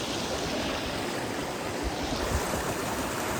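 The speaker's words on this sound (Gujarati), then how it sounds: "ભાઈ વોટરફોલ આવી ગયો છે" Water at the Dhareda waterfall rushes steadily in a dense, even roar, heard up close and continuous with no voices.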